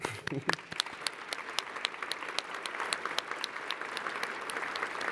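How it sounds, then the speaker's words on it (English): A crowd at an awards ceremony applauds the selection committee, with sharp individual claps standing out early and then settling into steady, sustained clapping. "Let's give them a round of applause"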